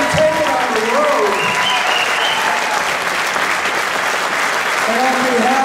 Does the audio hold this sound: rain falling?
no